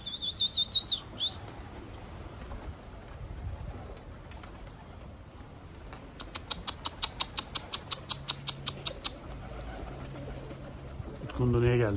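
Pigeons being released flap their wings in quick rhythmic bursts at the start and in a long run midway, with soft cooing and faint background sounds; a closing burst of noise comes at the end.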